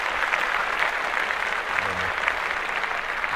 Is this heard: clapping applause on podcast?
yes